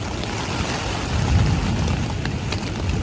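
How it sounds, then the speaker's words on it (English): Wind gusts roll through and buffet a tent on an Appalachian Trail hike, a steady broadband rush that swells louder in the middle before easing back, with no voices. "But here's the wind."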